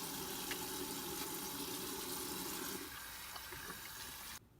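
A tap runs steadily into a sink for handwashing before sterile gloves go on, a continuous hiss of water that shifts partway through and then cuts off abruptly near the end.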